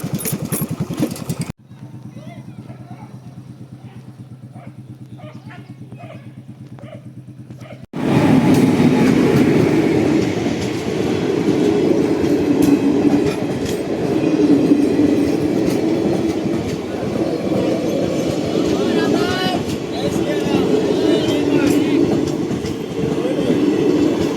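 A train rumbles past a closed railway crossing nearby, loud and steady with clattering wheels, after a quieter stretch of low humming; no one speaks.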